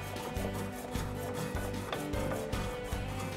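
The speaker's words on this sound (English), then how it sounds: "For this we are using a special planer for end grain." A special hand plane shaves end grain on a wooden designer chair, producing a steady, close rasping and rubbing sound with repeated strokes, loud and continuous with no talk.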